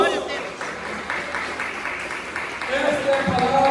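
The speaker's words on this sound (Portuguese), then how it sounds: "Palmas para Jesus." Church congregation clapping at a healing and deliverance service, a moderate spread of applause heard beneath a voice speaking over it, swelling toward the end.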